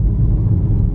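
Car driving into a car park beside Edinburgh Castle, a loud, close low engine rumble that holds steady without talk.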